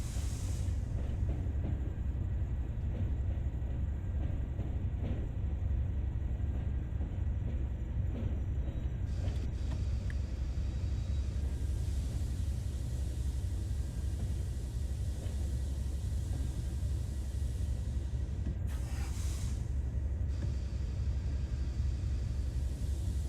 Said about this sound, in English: Approaching the stop marker, apply a small amount of brake force to achieve a comfortable stop.